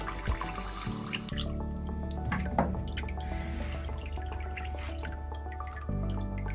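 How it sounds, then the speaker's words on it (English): Water drains and drips from wet silk paper pulp resting in a basket at a papermaking workshop in Bukhara, Uzbekistan: a steady close trickle with scattered distinct drops and no talking. "Whatever comes on the basket, they leave for some minutes here in order the water drop."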